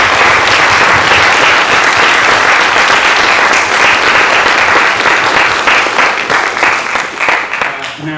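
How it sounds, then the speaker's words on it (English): Loud, sustained applause from a crowd at a youth parliament results and presentation evening, a dense roar of clapping that thins slightly toward the end. "I'd ask that you join me again in giving a big round of applause to all those people"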